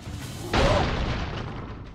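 A deep boom of an explosion in the game Broforce bursts in after a brief lull, then a long rumbling tail slowly fades away.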